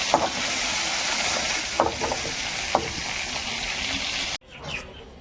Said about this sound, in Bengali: বন্ধুরা একটুখানি 5 ফোড়ন দিলাম, পুরো লঙ্কা ফোড়ন দিলাম। ওই তেলটার মধ্যেই দিচ্ছি বন্ধুরা